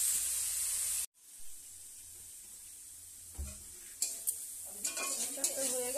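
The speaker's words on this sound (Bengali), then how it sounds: "একটু নাড়াচাড়া করে শাকটা নামাবো।" Leafy greens frying in a pan while being stirred, a constant close sizzle broken by a sudden dropout, then scraping and clattering stir strokes toward the end.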